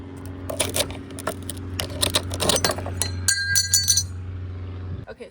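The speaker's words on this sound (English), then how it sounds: "We just have to chunk this glass out." Pieces of glass being pulled out of a mirror frame, producing a busy run of sharp clinks and rattles with ringing tones, close and loud, ending abruptly.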